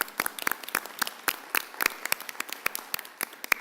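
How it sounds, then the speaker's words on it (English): A room at a school board of education meeting breaks into applause for teachers, a steady patter of many hands clapping with sharp individual claps standing out, moderately close and without speech. "So a big round of applause to all our teachers."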